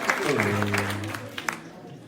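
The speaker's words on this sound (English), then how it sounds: "Congrats, a big applause" Audience applause for a winner at a tech meetup prize draw, a short burst of clapping running beneath a sustained voice that carries through most of the clip.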